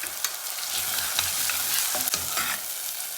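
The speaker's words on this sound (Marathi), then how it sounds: "आता आपल्याला टोमॅटो चांगलं मऊ होईपर्यंत परतून घ्यायचं आहे।" Chopped tomatoes sauté in a hot pan for a green moong amti, giving a loud continuous sizzle with repeated scraping stirs of a spoon throughout.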